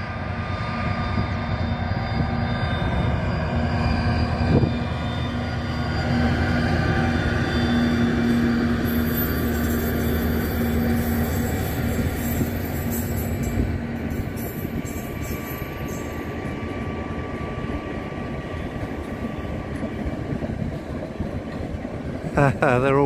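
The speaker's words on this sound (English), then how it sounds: "And I think there's a train coming." The White Pass tourist train rumbles past nearby in Skagway with a low, continuous engine drone and rolling clatter that holds steady for a long stretch, with some faint talk beneath.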